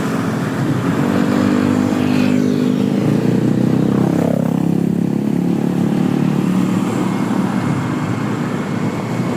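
A Yamaha Fino 125 FI motorcycle engine with a bad fault runs loud and close, sputtering and uneven as the throttle is worked, with rough swells rising and falling.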